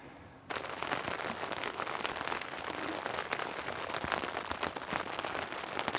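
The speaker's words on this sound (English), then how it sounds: "It's a pretty rainy morning here in the Coast Mountains." Steady rain patters on a mountain campsite in the Coast Mountains, starting abruptly after a brief quieter moment, then settling into a dense, even hiss of drops close by, with no voices.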